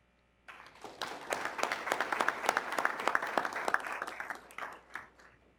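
An audience at a data visualization conference bursts into loud, sustained clapping after a talk. Dense, steady applause from many hands fills about five seconds, then thins and fades at the end.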